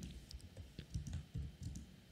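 Computer keyboard typing while writing Java code, quiet irregular clicks and key taps in short bursts, close and soft with no talking.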